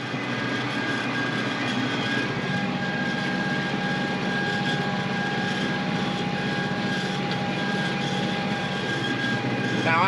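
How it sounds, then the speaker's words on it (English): Rotary chopper mower running at working RPM behind a tractor in a corn crop, a loud steady mechanical drone with constant hum and whine, unbroken throughout. "The mower's ready to go."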